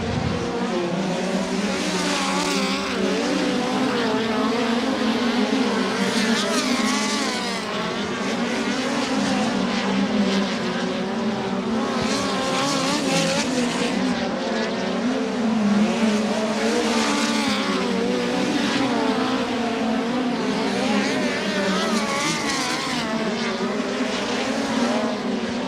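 Sprint cars roar continuously around Angell Park Speedway in a World of Outlaws qualifying session, loud high-revving engines rising and falling as they pass, with no voices over the racing.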